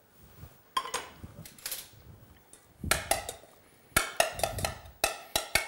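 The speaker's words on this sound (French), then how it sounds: "je viens débarrasser le saumon dans un petit saladier, dans une petite calotte" Flaked salmon for rillettes scraped with metal utensils into a small bowl: sharp clinks and scrapes in irregular clusters, close and crisp, with quiet pauses between.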